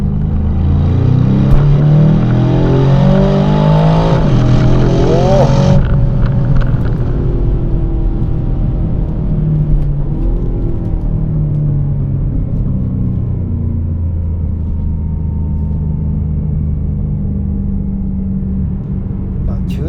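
The deep engine of a 2025 Aston Martin DBX707 SUV rumbles loudly and revs up in rising sweeps on a Tokyo street, then settles into a sustained low drone as the vehicle pulls away.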